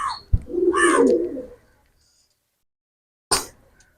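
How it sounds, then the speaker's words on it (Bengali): Two quality pigeons, young KTM and Salara Teddy birds for sale, give one full throaty coo up close, a low rolling burst lasting about a second, followed by silence and a short sharp rustle or click. "খুবই ভালো মানের দুইটা কবুতর, চরম কোয়ালিটি কবুতর দুইটা কবুতর"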